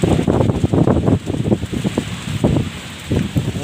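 Strong wind blows across an open outdoor spot in Purworejo, buffeting the microphone with loud, gusty, rumbling bursts. Leaves rustle unevenly through it, and there is no speech.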